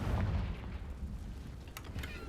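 A fiery Confringo spell blast in the video game Hogwarts Legacy, a deep rumbling boom that lingers low and heavy, with a few faint crackles near the end.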